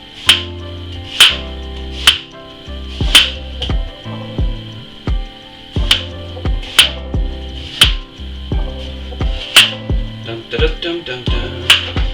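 A knife dices de-seeded, dehusked watermelon on a cutting board, giving crisp repeated chops in an uneven rhythm, close and fairly loud, with a quick cluster of cuts near the end.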